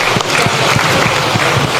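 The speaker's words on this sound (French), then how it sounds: "applaudis très bien pour le Seigneur" A church congregation at a deliverance service applauds steadily, dense continuous clapping filling the space loud and close, with no voices over it.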